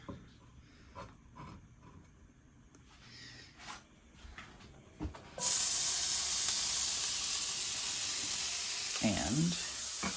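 Scallion whites hit a hot frying pan with a sudden loud sizzle after some quiet handling noises, and a steady hiss carries on to the end with a faint voice late on.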